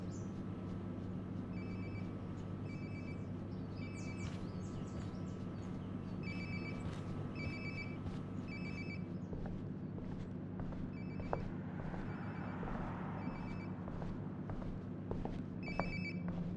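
A phone rings repeatedly in the video game Life is Strange: Before the Storm, bright double trills recurring at steady intervals over a low ambient hum, with no talking.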